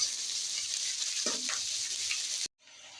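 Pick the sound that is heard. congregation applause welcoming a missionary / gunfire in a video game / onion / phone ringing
onion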